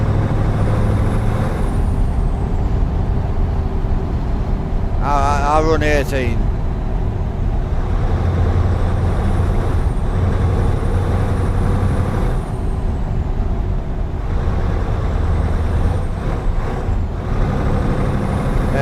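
A Scania V8 truck engine with a stock exhaust, driven in Euro Truck Simulator 2, drones steadily at a constant loud level, with a brief hiss partway through and someone talking over it.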